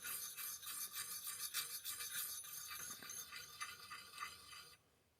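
A dry file sharpening a blade edge, quiet repeated rasping strokes in a steady back-and-forth rhythm for several seconds, then a sudden stop.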